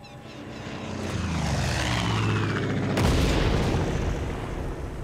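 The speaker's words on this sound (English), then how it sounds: "The plane's back!" A propeller airplane drones closer and louder as it flies overhead, with a sudden heavy boom midway before the engine noise slowly fades.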